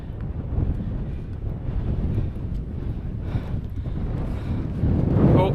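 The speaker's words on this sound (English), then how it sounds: "It's getting windy again." Strong wind blows across an exposed mountain summit in the Langdale fells of the Lake District, roaring steadily into the microphone with a rumbling buffet and a louder gust near the end, and no voices.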